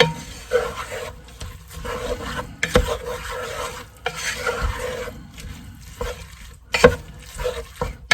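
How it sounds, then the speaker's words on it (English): Vegetable soup with meat being stirred in a pot, a utensil scraping and clinking against the sides in repeated strokes with a light sizzle, close and prominent, with no talking. "And you gotta stir. Give it a good mix."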